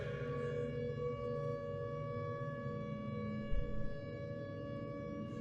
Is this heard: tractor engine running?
no